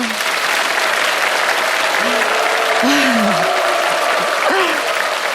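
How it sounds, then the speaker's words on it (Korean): A lecture audience claps after a talk. The applause is a full, even round from many hands, with faint voices drifting through it. "여러분들 재미있게 들으셨다면 박수 한번 부탁드립니다."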